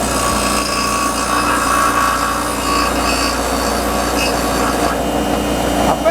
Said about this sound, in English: I'll just grind a little bit of a flat down on each side.